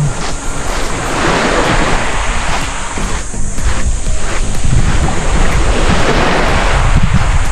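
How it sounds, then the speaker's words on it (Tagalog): Ocean surf rolls continuously onto a quiet beach at Puerto Galera, Oriental Mindoro, a loud, steady wash of waves mixed with gusty wind buffeting the microphone, with no talking. "yung alon lang ang naririnig natin"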